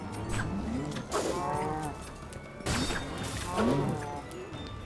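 Cows moo repeatedly in a video game, two drawn-out lowing calls rising over a steady bed of game noise, with some thuds and clatter alongside.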